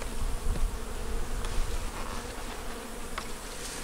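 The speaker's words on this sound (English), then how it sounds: "Hopefully the bees don't get too irritated with me." Honey bees buzzing steadily in an opened hive, a dense continuous drone close to the listener with no voices over it.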